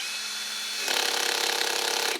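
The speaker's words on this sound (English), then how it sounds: "That clicking sound you're hearing is the drill stopping and going" A power drill whirs briefly, then its clutch ratchets in a rapid, steady clicking burst for over a second before cutting off.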